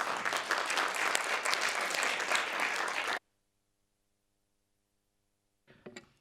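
Applause from the audience at a full council meeting of the City of Doncaster fills the room steadily for about three seconds, then cuts off into silence before a few faint, brief noises near the end.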